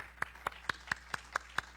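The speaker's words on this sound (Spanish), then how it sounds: "Regálenme un aplauso para todos ellos y para todos los hermanos y hermanas" A church congregation claps in a crisp, even rhythm, with about eight sharp claps in under two seconds at a steady tempo over a quiet background.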